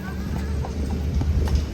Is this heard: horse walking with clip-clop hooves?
yes